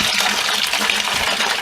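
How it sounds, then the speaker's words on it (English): Warm water pouring into a bucket to mix sugar syrup for feeding honey bees, a loud continuous gushing splash lasting the whole moment. "We're going to take a gallon of warm water. I'll put it in a bucket and mix it."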